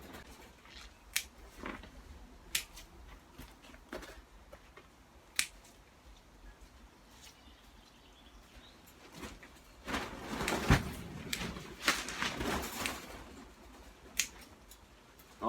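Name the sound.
pruning tomato suckers with scissors in a greenhouse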